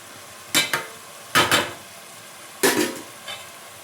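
Turmeric, coriander, chili and cumin powders are stirred into sautéed masala in a pan for Kerala-style fish curry, three short bursts of scraping strokes over a quiet background.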